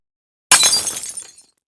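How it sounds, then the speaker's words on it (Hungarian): A glass pickle jar smashes once with a sudden loud crash, followed by about a second of bright scattering shards and tinkling fragments that fade into silence. "Sőt, egyszer így törte össze egy kasszás az uborkás üveget."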